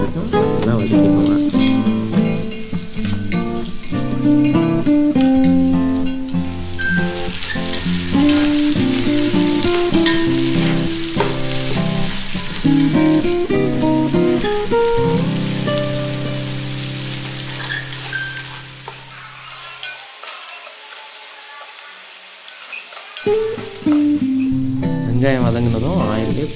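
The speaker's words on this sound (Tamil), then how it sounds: "இப்போ இதில் பட்டை, கிராம்பு, ஏலக்காய், வெங்காயம், சோம்பு சேர்த்து வெங்காயம் கோல்டன் ப்ரௌன் வரைக்கும் நல்லா வதக்கிக்கோங்க" Onions, cinnamon, cloves, cardamom and fennel frying in oil for a country chicken dum biryani, a steady loud sizzle heard under continuous background music that drops out briefly near the end.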